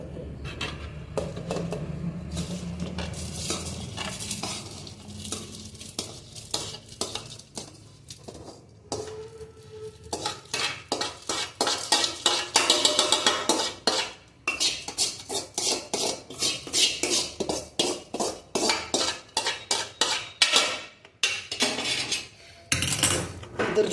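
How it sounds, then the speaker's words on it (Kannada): A metal spoon scrapes and taps roasted spices into a mixer jar in a kitchen, a quiet shuffling start followed by a long run of rapid, bright clinks and scrapes of metal on metal. "ಇದನ್ನು ಇವಾಗ ಮಿಕ್ಸರ್ ಜಾರ್ಗೆ ಹಾಕ್ತೀನಿ."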